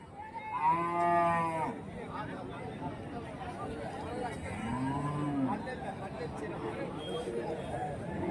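Two moos from a cow at a cattle market in Karimangalam, Dharmapuri, the first louder and closer, the second softer, over a steady hum of people talking in the background.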